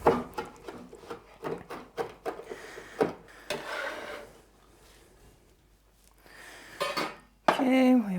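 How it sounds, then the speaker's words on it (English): A knife chops thyme leaves and other herbs on a cutting board in a home kitchen, a fast run of close, crisp taps that stops partway, followed by quieter handling sounds and a brief clatter. "And I'll just give everything a good chop."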